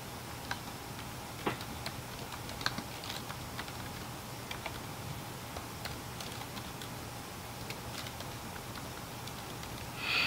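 Computer keyboard keys tapped in a steady, uneven run of light clicks while a command is entered, close and fairly quiet with no voices, ending in a brief louder burst.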